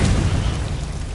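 A Confringo blasting spell explodes in a Harry Potter video game, a loud, dense boom that swells at once and holds as a rumbling roar for about a second, with no voices over it.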